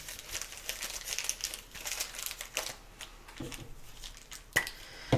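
A plastic bag is crumpled and crinkled up close in quiet surroundings, giving irregular bursts of crackling with a few sharper pops near the end.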